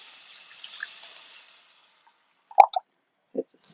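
Water poured into a pot of medieval barley stew made with pearl barley and salt: a soft pouring hiss for about a second and a half, then quiet, then a few close wet plops and splashes.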